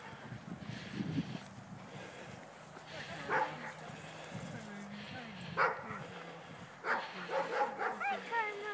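An 8-month-old young dog gives several short, close yips and whimpers under frequent nearby human talk.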